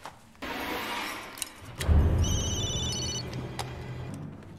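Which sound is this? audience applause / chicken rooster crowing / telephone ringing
telephone ringing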